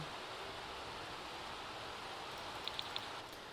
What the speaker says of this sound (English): and then I realized it was raining